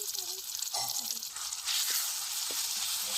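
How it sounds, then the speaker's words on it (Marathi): A ground paste of cumin, garlic, green chili and coriander sizzles steadily in hot oil, a close and continuous frying hiss with a few soft stirring knocks. "तेल टाकले आणि त्याच्यामध्ये हे वाटण टाकून घेतलं"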